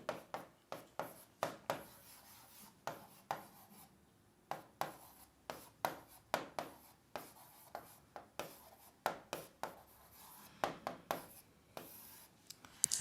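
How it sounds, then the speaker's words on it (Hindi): Chalk or marker strokes on a board as a differentiability formula is written during a mathematics lecture, a steady run of short scratchy taps and rubs with brief pauses, close and fairly quiet, with no talking. "सबसे पहले थोड़ा डिफरेंशिएबिलिटी का फार्मूला लिख लेते हैं।"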